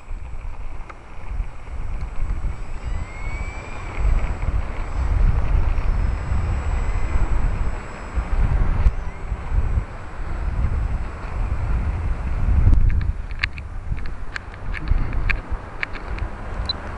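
An RC model HondaJet converted to a PT-6A turbine flies a circuit at Broome, a faint distant whine drifting past amid steady wind noise on the microphone, with no talk.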